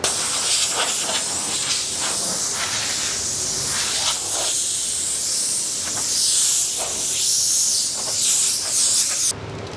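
An anti-static air gun blasts air across a truck bed being prepped for rock guard coating, a loud continuous hiss that swells and dips as the gun moves, then cuts off near the end.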